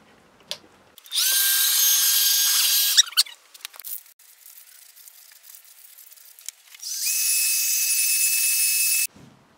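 Hair dryer blowing on freshly painted car bumper, two bursts of steady whirring with a high whine, each lasting about two seconds, separated by quiet handling noises.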